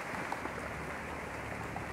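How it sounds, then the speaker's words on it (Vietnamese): Heavy rain pouring down outdoors, a dense continuous hiss of falling drops and splashing water, steady and close with no talking. "Cái này trời mưa, trời mưa quá"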